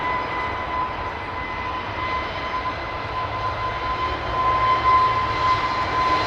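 Airliner fitted with LEAP engines at Heathrow Airport, a steady distant engine roar with a thin whining tone running through it, slowly swelling louder toward the end, no voices.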